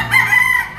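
A white-legged stag rooster crows at a Lipa poultry auction market, one short, loud, close call that rises and holds briefly before cutting off.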